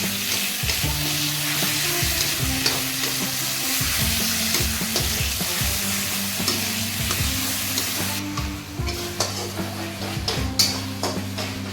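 Tomatoes frying in ginger garlic paste in a pan, a loud continuous sizzle broken by repeated stirring and scraping strokes, easing slightly toward the end.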